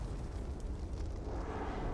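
A deep rumbling explosion in a war video game, a dense low roar that holds steadily across the whole two seconds with a faint crackling edge.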